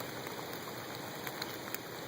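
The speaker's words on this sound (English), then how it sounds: "It's pouring down rain." Heavy rain pours steadily onto surfaces at a riverbank, a dense, even hiss with a few louder drop spatters, close and unbroken, with no voices.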